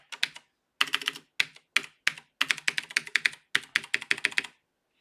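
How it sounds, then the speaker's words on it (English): Typing on a computer keyboard, bursts of crisp, close key clicks in quick irregular runs separated by short pauses, loud and clear with no talking. "You type in the names A, B, C, D, E, F, G, H, I, J, K."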